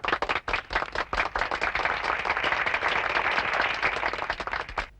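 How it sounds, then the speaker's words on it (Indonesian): Guests at a birthday party in a 1982 Indonesian film break into applause: a few separate claps at first, then loud, dense, continuous clapping close by. "Tepuk tangan."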